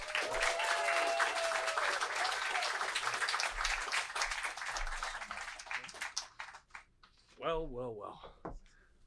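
An audience claps to welcome a speaker, a dense round of applause that fills the hall and then tapers off, with voices audible as it fades.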